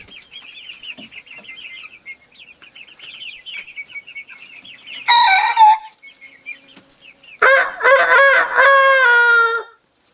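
Faint chatter and bird calls, then a person imitates a rooster's crow in a short burst to teach a young rooster, followed by a louder, drawn-out crowing call.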